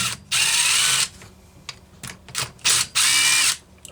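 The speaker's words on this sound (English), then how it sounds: "I'm going to take the carburetor off so we have a better view" Power tool work removing the carburetor from a Homelite Super 2 or XL chainsaw: two longer whirring bursts of a drill or driver alternate with short ratcheting clicks and brief mechanical spins, close and fairly loud, with no talk.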